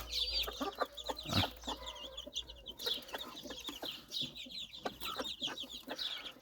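Gray Ataks chickens cluck and chatter softly nearby in a busy, overlapping stream as they eat scattered wheat, with small pecking and rustling sounds in the background.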